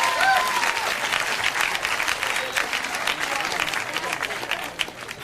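An audience applauds, a dense wash of clapping that holds steady throughout, with a few faint voices mixed in.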